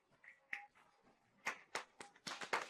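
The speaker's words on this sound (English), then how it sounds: "and the other hand will clap" A person claps one hand lightly in a slow, uneven series of soft, close claps, quiet and sparse, as a display of polite applause.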